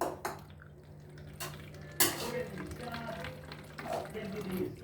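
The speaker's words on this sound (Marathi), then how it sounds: "सो काय आता मी पाणी भरतोय, जरा वेळ थांबा" Water runs steadily into a vessel in a home kitchen: a continuous rushing pour starts partway through after some dish clatter and carries on to the end, close to the listener.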